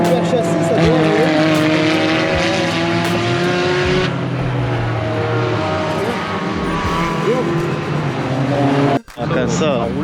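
A Renault Twingo race car runs on a circuit with a steady, loud engine drone that drops away near the end, while people talk over it.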